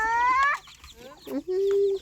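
Chickens cluck and squawk close by on a small farm, several short rising calls followed by a steady held note, with a voice speaking underneath.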